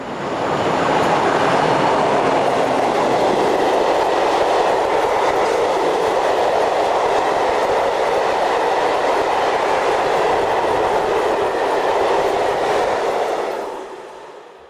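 Electric freight locomotive 140829 hauling a train at speed through Bottrop, Germany, a loud close continuous roar with rolling wheel rumble and clatter that holds steady, then cuts off as it passes.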